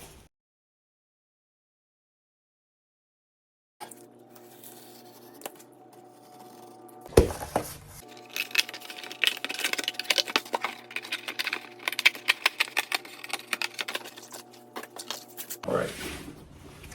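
Cardboard for a rough backpack panel mock-up is cut and handled up close after a long silence, with irregular scratchy snips, scrapes and taps in uneven bursts.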